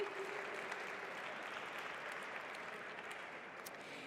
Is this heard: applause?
yes